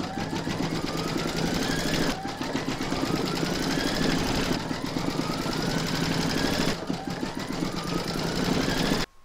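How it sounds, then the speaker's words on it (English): Embroidery machine stitching a securing outline through batting in a hoop for a large reindeer applique, a loud, fast, steady mechanical rattle with a faint rising whine repeating every couple of seconds, running alone until it stops abruptly. "Pop the hoop into your machine and stitch round number 2 to secure it"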